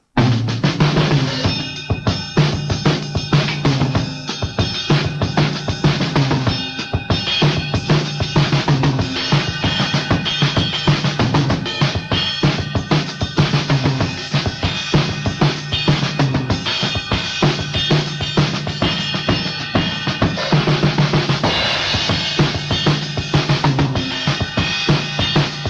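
Funk samba groove on a drum kit, a busy continuous pattern of kick, snare and cymbals at steady volume, played alone with no talking.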